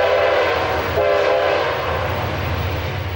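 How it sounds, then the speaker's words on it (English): CSX freight train passing close by on nearby tracks, a loud steady rumble of rolling cars with horn tones sounding in the first second and a half, then continuous wheel noise. "There are plenty of trains on the nearby CSX tracks, though."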